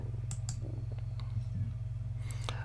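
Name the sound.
mouse click on Merge in Adobe Camera RAW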